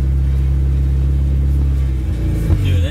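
A project car fitted with a B16 engine drives along, its mid-pitched engine rumbling loud and close with a steady drone and a slight rev change toward the end.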